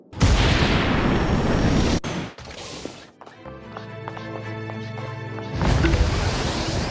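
Game jetpack effect: a loud, dense roaring fuel burn that cuts off into a softer hissing, tonal air-pressure release tail, then the roar resumes.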